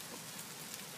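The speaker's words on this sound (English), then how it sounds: "we've got some rain coming down now" Steady rain falls outside on a near-freezing day around 47 degrees, a soft continuous hiss of drops on surfaces, even and unbroken for the whole second with no voices.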